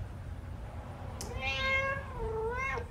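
A cat meows twice in the video game Five Nights at Freddy's: Into the Pit, a rising then falling cry followed by a second drawn-out meow, clear and close over a low background hum.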